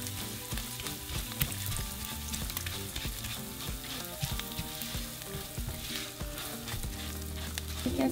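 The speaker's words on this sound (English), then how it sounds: "we're going to add our rice, and we're going to fry it until it turns a pretty golden color" Rice frying in hot oil for cilantro lime rice, a dense, continuous close sizzle with crackling pops and stirring, no talking.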